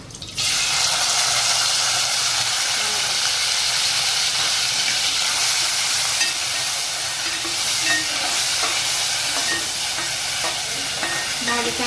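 Vegetables and garam masala for white pulao hit hot oil in a pot, setting off a loud, steady sizzling hiss that starts abruptly and holds for several seconds.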